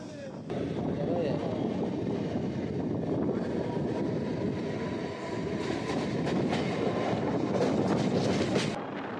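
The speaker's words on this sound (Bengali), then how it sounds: "আমাদের ট্রেন এখন এসে পৌঁছালো বৈদ্যবাটি স্টেশন" Howrah–Bandel local train running near Baidyabati, a loud, continuous rolling rumble with clickety-clack of wheels over rail joints and wind buffeting, heard close from inside the coach.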